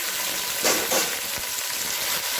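Steady sizzling of mutton frying in a pan, close up, with a couple of brief stirring scrapes over the continuous hiss.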